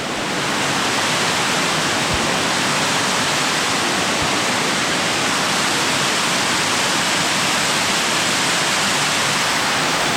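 Loud, unbroken roar of a waterfall heard up close, a dense hiss of falling water filling the whole stretch evenly without pause or speech.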